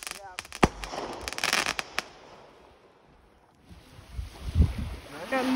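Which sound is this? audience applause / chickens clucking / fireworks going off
fireworks going off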